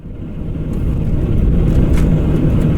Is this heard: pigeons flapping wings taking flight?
no